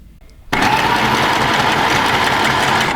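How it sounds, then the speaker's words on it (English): A mini sewing machine set to its longest straight stitch runs steadily after a short quiet start, giving a continuous close mechanical whir that holds an even drone to the end. "Biggest stitch on your sewing machine, which on my mini JL is D. and no backwards and forwards, and you just sew."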